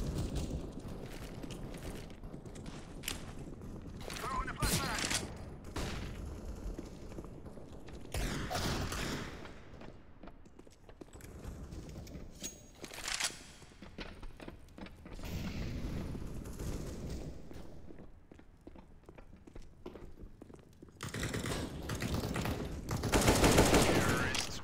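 Bursts of gunfire from a rifle in the video game Counter-Strike, several separate volleys of rapid shots spread across the clip with mechanical clicks and quieter gaps between, loudest near the end.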